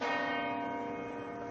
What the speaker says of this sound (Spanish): las campanas de las iglesias de Madrid